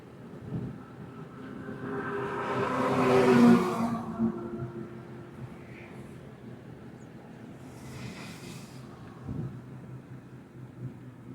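A car pulls away from a standstill during a driving lesson: the engine swells for a couple of seconds as it moves off, then settles back to a low, fairly faint hum with an occasional soft bump.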